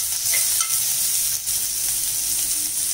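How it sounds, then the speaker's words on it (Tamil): Onions stirred into browned lentils in a pan give a steady, close sizzle with light scraping and stirring noises throughout, no voices. "இப்போ நான் இந்த எடுத்து வச்சு இந்த வெங்காயம் இதையுமே போட்டு வதக்கிக்கலாம் நல்லா"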